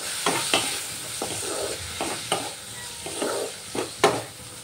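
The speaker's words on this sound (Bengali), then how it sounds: "এবার সব মশলাগুলো ভালো করে কষিয়ে নেব" Ground chilli, turmeric and cumin powders sizzle in oil in a pan for a fish curry, with a steady fry under repeated spoon or spatula stirs and scrapes spaced across the few seconds, close and clear.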